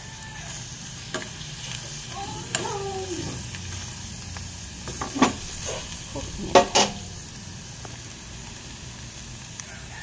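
Pork liver sizzles in a pan as dog snacks cook, with a steady background hiss. Stirring clinks and scrapes now and then, and a faint voice is heard at times.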